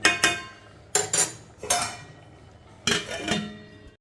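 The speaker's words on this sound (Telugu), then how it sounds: "మూత పెట్టేసుకుందాం" A metal lid set onto a cooking pot while a pumpkin and yam curry simmers: four separate sharp metallic clanks, each with a brief bright ring, the last a doubled rattle, close and clear with no talk.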